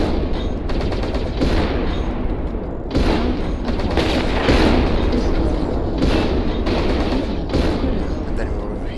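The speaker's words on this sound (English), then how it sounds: "And then we're repeating firing the LBs." Repeated LB autocannon bursts from a Marauder II mech in MechWarrior Online, a steady run of loud rapid booming shots lasting several seconds with brief pauses between volleys.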